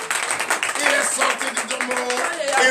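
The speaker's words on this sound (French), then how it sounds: "Merci Seigneur, donnez l'acclamation à Jésus." A congregation at a morning prayer service in Benin claps and calls out in acclaim, with rhythmic hand claps running steadily under loud, overlapping voices shouting and singing throughout.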